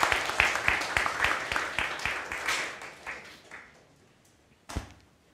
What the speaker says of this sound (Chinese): 好，那我们来再次拍手啊！